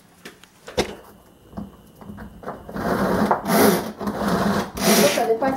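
Meat grinder machine grinding onion pieces, a steady rough mechanical grinding that builds from sparse knocks and clatter into a sustained, loud churning roar, with a brief tonal whine early on.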